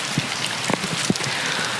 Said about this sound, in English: I'm sorry for the rain hitting the mic